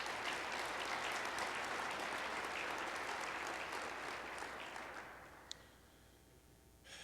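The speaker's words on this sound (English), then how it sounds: "Please give a round of applause to our premier sponsors." Conference audience applauding corporate sponsors at a 2006 national wealth-management conference, steady dense clapping throughout that gradually thins and fades toward the end.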